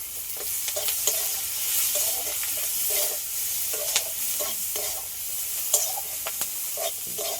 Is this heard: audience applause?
no